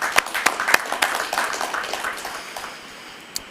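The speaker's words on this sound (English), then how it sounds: "So let's give a round of applause to all the sponsors." Audience applause for event sponsors at a parks and recreation board meeting: a room of people clapping, with sharp claps early that fade into softer scattered clapping, ending with a single clap.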